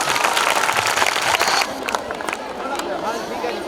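An audience claps at a function at Government Girls Senior Secondary School, Mahna Singh Road, Amritsar. A dense burst of applause and crowd noise comes first, then it thins to lighter scattered clapping with voices underneath.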